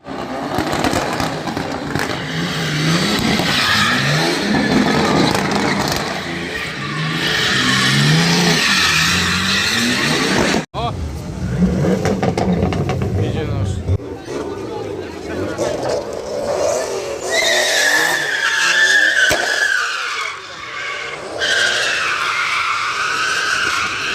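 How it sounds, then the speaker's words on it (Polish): Cars skid and rev at a car meet, with long tire squeals and engine roar sustained across the scene, loud and continuous, mixed with crowd noise and voices. "Zlot samochodowy."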